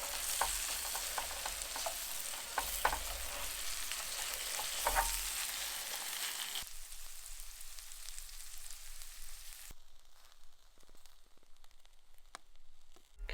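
Onions frying in a pan at a campsite, sizzling steadily with stirring scrapes, the sizzle dropping off in steps toward the end.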